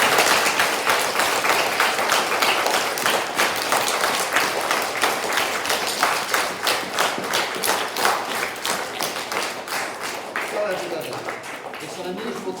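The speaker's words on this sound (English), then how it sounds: "let's give them a big round of applause" Schoolchildren and staff at a Year 5 assembly give a long round of applause, with many distinct hand claps forming a busy, rhythmic patter that gradually thins and softens toward the end.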